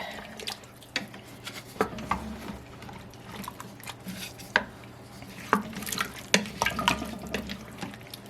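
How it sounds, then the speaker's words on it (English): A spoon is stirred through a pot of sweet potato and black bean chili, giving irregular wet sloshes and sharp clinks against the pot, close and moderately loud, with no speech. "let's stir it up."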